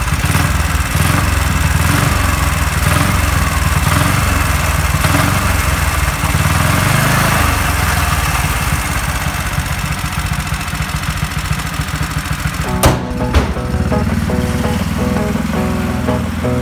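A Honda Insight car powered by a lawnmower engine with a Mikuni carburetor runs steadily and loudly on a rural Michigan test ground, its engine drone continuous throughout, with a brief sharp knock near the end.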